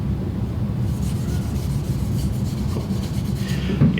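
Soft, steady rubbing as a cloth works dark ebony finish onto a cedar teardrop birdhouse, a faint continuous scuffing texture with no talk over it.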